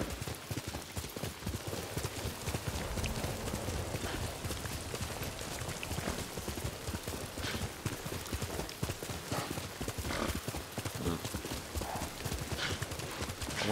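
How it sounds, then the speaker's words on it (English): Steady clip-clop of horse hooves at a trotting pace in Ghost of Tsushima, close and continuous, over a wash of rain background noise. "You're a good horse."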